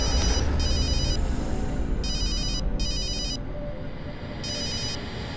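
A telephone rings with a trilling electronic bell in four short bursts, each separated by a pause, over a constant background hum.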